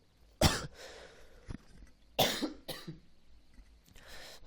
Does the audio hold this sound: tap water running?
no